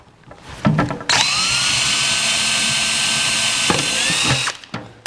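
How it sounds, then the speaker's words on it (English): A power drill bores a pilot hole in a battery box during a battery and cutoff switch install on a 1949 Chevrolet gasser, one loud sustained whine of nearly four seconds with a short rise in pitch near the end, then stopping. "Drill a pilot hole."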